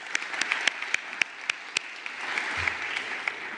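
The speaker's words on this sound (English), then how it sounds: "Applause for them." Modest applause at an entrepreneurship summit pitch finals, soft and scattered, with individual claps standing out and tapering off.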